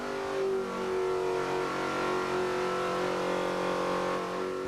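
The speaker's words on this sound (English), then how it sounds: "the engine is pulled and put on the dynamometer" A 1991 NASCAR Winston Cup race car engine runs on a dynamometer, holding a loud, steady high-rpm drone with strong tonal harmonics and slight pitch swells, with no voices.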